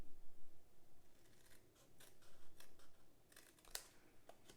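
Scissors notch the upper section of a cardboard treat cube, giving a series of quiet, close, crisp snips and cuts in an otherwise hushed room.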